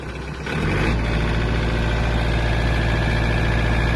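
A Mitsubishi MT-26 mini tractor engine runs steadily in its lowest gear, a loud, continuous low diesel chug that rises slightly at the start and then holds constant, with no voices.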